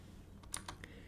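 Keyboard arrow keys pressed while working in SketchUp 2023 3D modeling software, giving three soft, quick clicks in a quiet room.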